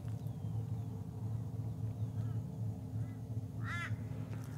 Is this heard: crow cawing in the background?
yes